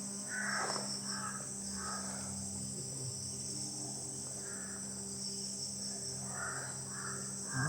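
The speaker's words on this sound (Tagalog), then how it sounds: "Daming uwak." Several crows caw in scattered, repeated calls at a moderate distance over a steady chorus of buzzing crickets.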